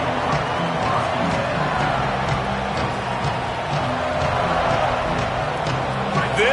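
A football stadium crowd gives off a loud, continuous roar throughout, a dense wash of voices with no breaks.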